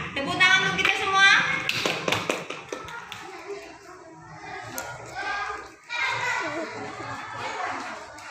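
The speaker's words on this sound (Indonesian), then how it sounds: "Tepuk tangan untuk kita semua." A class of schoolchildren claps together during a science lesson, brief rapid clapping early on amid lively children's chatter and voices throughout.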